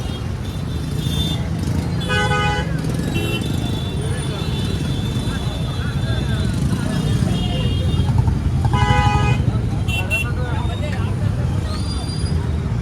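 Heavy road traffic near the Bhalka temple area in Gujarat, with a steady roar of engines and repeated vehicle horns honking in clustered bursts, while people talk nearby.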